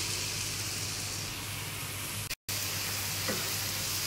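Masoor lentils frying in a ginger-garlic spice paste in oil, a steady dense sizzle throughout with a brief dropout midway and a light stirring scrape near the end.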